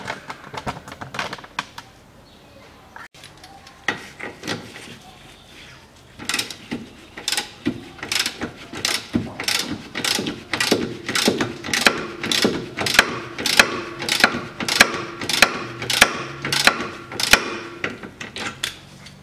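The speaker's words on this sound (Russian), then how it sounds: "Откручиваем вот эти 4 болта на 14." Ratchet wrench clicking as four 14 mm bolts are loosened on a KIA Sportage 2.0 during rear trailing-arm bushing replacement, rapid regular ratcheting bursts growing louder and steadier, close up with no talk.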